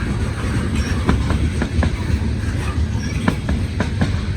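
A heavy freight train rumbles steadily past nearby on welded rail, with repeated metallic clanks and clicks over the wheels' continuous roar.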